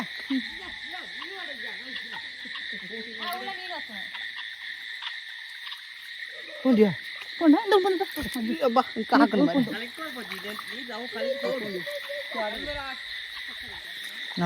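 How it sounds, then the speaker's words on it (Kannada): Frogs croaking at night by the water during a night fishing trip, with a dense chorus of insects or frogs droning steadily throughout while people talk nearby over it. "ಕಪ್ಪೆ ಅಂತ"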